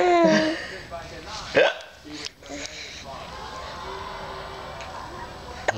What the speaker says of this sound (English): Okay, hiccups.